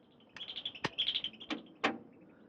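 Small birds sold as canaries, sprayed with colour, give several short bright chirps and tweets with a few sharp clicks mixed in, close and moderately loud in a quiet indoor scene.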